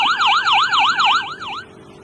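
Fire engine siren wailing loud and close, a rapid up-and-down electronic yelp cycling steadily for about a second and a half before cutting off, with no voices over it.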